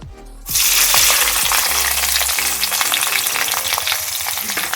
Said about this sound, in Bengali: আমরা এখানে যে ক্যাপসিকাম এবং লঙ্কা কুচিটা নিয়েছিলাম, সেটা আমরা কড়াইতে দিয়ে দেব।